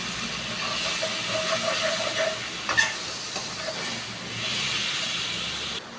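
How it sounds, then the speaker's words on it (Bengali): Spices frying in a pan as a little water goes in, giving a soft steady steamy hiss with a brief sharper burst midway, fairly quiet and close. "এর সঙ্গে আমি অল্প একটু জল দিয়ে দেবো, যাতে মশলাটা পুড়ে না যায়"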